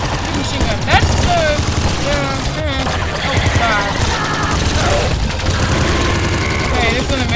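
Rapid, continuous machine-gun fire in the top-down shooter Nuclear Throne, dense bursts of chiptune-style shots mixed with game music and effects, a voice talking over it.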